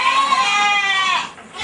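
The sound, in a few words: goats bleating on a goat farm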